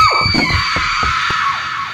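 Honey lets out piercing, high-pitched sonic screams in the horror video game Honey. The shrill sustained tones open with a falling sweep and are broken by a few short bangs.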